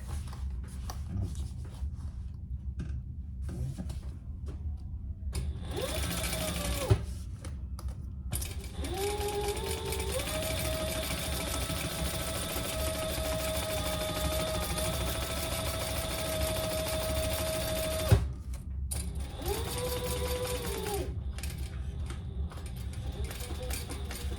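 A sewing machine stitches foam-backed side panels of a crossbody bag in three runs, the longest lasting about nine seconds, each a close, steady mechanical whir with a rising motor whine, separated by brief pauses and handling clicks.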